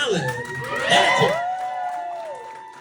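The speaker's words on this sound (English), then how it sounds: "Keep clapping till Kneeco gets to the mic." An audience at a poetry workshop reading cheers and whoops for a poet, with rising shouts and clapping, loud and close, alongside an emcee speaking.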